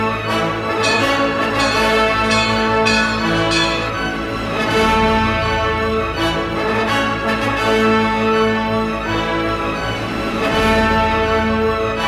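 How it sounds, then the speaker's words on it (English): Campus bell chimes ring out a victory melody, Hark the Sound, after a North Carolina Tar Heels football win. Sustained, resonant tolling notes layer into a continuous tune, loud and alone. "When the Tar Heels are victorious in football, the chimes send the sound of Hark the Sound."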